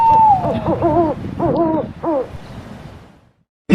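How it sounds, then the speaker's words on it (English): An owl gives a run of loud, wavering hoots, several in close succession, then falls silent before a sharp sound at the very end; no speech. "O for owl."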